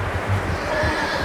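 Horse neighing in the video game Red Dead Redemption 2, a loud close whinny lasting about a second with faint hoof clatter beneath.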